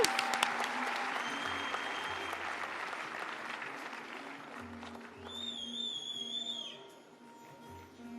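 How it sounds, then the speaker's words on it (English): Audience applause for the winners at the valedictory session of the UNESCO India Africa Hackathon, with dense clapping that gradually thins out and a few whistles rising near the end. "A huge round of applause for the winners."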